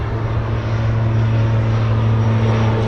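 Aircraft at Anchorage airport powering up for takeoff, a loud steady engine roar with strong low droning tones held throughout, close and unbroken.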